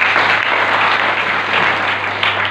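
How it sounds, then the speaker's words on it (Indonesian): A congregation at a church service claps together, dense and loud, with a steady low hum running beneath the continuous applause. "Tepuk tangan buat dia."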